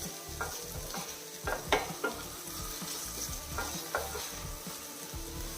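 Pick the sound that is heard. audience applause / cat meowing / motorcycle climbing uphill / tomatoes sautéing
tomatoes sautéing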